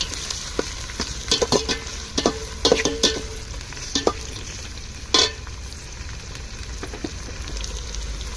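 Chopped tomatoes and onions sautéing in a pan, with a steady low sizzle broken by a series of sharp spatula scrapes and knocks in an irregular rhythm, close and fairly loud, no talking.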